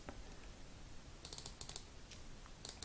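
A rotating bezel on an Invicta 1953 watch ticks through a series of small, sharp, close clicks, a few single and some in quick clusters, faint against a quiet background.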